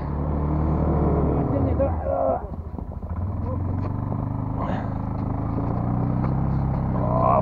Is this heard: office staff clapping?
no